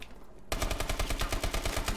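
Rapid automatic gunfire from Call of Duty: Advanced Warfare on the Compound map, a fast steady burst of loud close shots that begins abruptly after a brief quiet lead-in.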